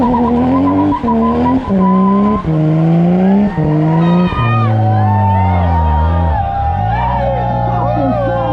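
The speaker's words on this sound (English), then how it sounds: "Just one burnout, only one burnout." Car burnout from a turbocharged, straight-piped car with loud squealing tires and a revving engine whose pitch rises and falls in repeated surges, up close and dominant, with crowd noise beneath.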